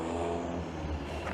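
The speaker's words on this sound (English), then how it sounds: "I'm so tired of these modified mufflers. Like, it's a Fiat also." A Fiat car with a loud modified muffler rumbles on a city street, heard close, with a deep, rough exhaust drone during a brief rev.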